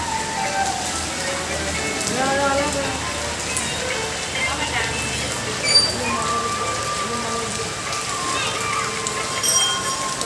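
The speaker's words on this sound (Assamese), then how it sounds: "বৰষুণে দি আছে, কেনেকৈ যাওঁ?" Steady rain patters on a surface throughout, with people talking over it now and then.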